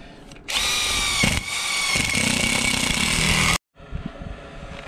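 A power drill drives stainless self-tapping screws into a solar panel mounting rail, a loud close whine running about three seconds with a short pause early on, then cutting off abruptly before quieter handling noises.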